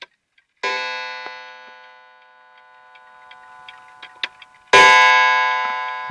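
An unusual clock's hammer strikes a chime coil twice, each hit a bright metallic ring that decays slowly, separated by quiet faint ticking and small mechanical clicks while the clock runs slowly as it winds down.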